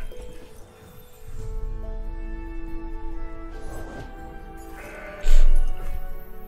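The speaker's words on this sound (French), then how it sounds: "Plus de chèvres, toujours plus de chèvres." Repeated bleating from goats in the game Legends of Runeterra, layered over steady game music, with a louder burst near the end.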